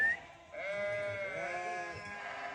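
A flock of sheep and goats on a foggy mountainside bleats in overlapping, wavering calls, several animals crying one after another at moderate distance without any talk.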